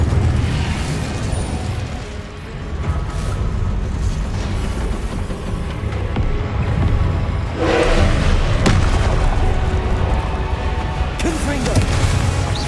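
Repeated Confringo fire-blast spells in the Hogwarts Legacy video game, a loud, dense run of booming bursts and crashes over a continuous rumbling combat bed, with heavier hits standing out around the middle and near the end.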